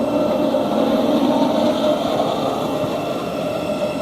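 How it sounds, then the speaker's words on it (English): A Great Northern / Thameslink train bound for Cambridge pulls out of Stevenage station, giving a steady close rumble of wheels and motors with faint wheel squeal and no talking. "the next train to leave is... a service to Cambridge from King's Cross, Great Northern / Thameslink"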